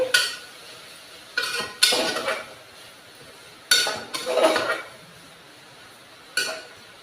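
Cluster beans are stirred in a metal pan with a spoon, giving several loud scraping, clanking bursts separated by quieter pauses with a faint sizzle, close up with no voices.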